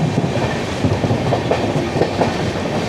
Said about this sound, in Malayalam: ഏതോ ഒരു ട്രെയിൻ ഓപ്പോസിറ്റ് ലൈനിൽ വരുന്നുണ്ടല്ലോ